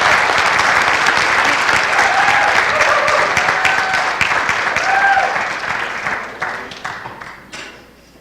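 Sustained applause from a crowd at a college signing-day ceremony, loud and even at first, then thinning out and tapering to scattered claps at the end.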